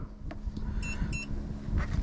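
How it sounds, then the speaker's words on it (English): Two short electronic beeps from a Pecron portable power station struggling to run an AC unit sound close together over a low background rumble and hum. "that started beeping to alert me that something is potentially not right"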